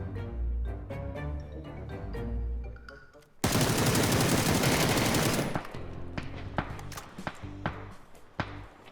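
Gunfire in the battle-royale game PUBG: a loud sustained burst of automatic fire lasts about two seconds, followed by scattered sharp single shots over game background sounds.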